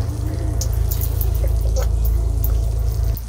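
Urine splashes down in a shower for a few seconds, a steady close liquid trickle over a low hum of running water, with faint drips and splatters.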